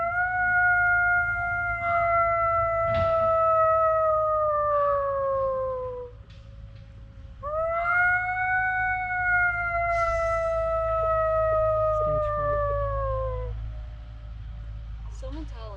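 Wolfdogs at a sanctuary howl in long, sliding, layered tones, two drawn-out howls following one another over steady low background rumble, fairly close and loud.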